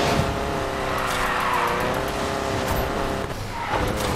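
A Volkswagen Beetle drifts in the Need for Speed Payback video game, its engine wailing and tires squealing in a loud sustained skid that holds for several seconds close up.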